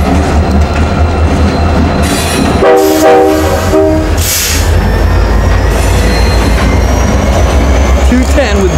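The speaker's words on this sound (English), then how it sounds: "The birthday train, ladies and gentlemen." North Carolina Railroad locomotive 388 rolls loudly past a nearby crossing in Durham, NC, sounding a blaring horn blast amid steady wheel rumble and clatter, with faint voices nearby.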